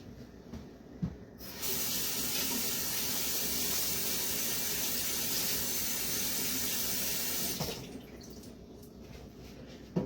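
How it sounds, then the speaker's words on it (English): Tap water runs steadily into a kitchen sink for several seconds while fruits and vegetables are rinsed before juicing, a close, even rush that starts and stops abruptly. "So make sure you rinse them."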